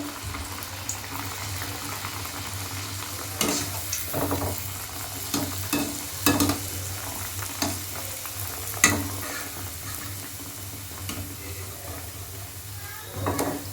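Bengali spicy kachori deep fry in hot oil, giving a continuous bubbling sizzle with occasional louder splashes and utensil clinks as they are turned.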